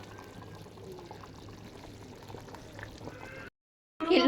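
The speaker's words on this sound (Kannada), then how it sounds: "ಅದು ಎರಡೂ ಕುದಿಯತೈತೆ ರೀ" Spiced oil and mixture bubbling in a pot for chicken gravy, a quiet continuous boil with faint crackles, cut by a brief silence before a louder burst at the end.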